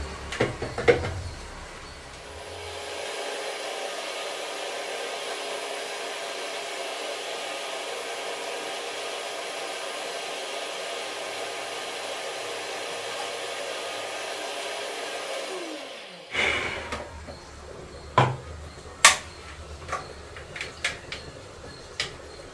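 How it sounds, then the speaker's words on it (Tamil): A kitchen mixer grinder grinding coconut whirs loudly and steadily for about thirteen seconds, then cuts off, followed by scattered clinks and knocks of utensils. "அரைச்சாச்சு. மிக்ஸி வேலை முடிஞ்சது."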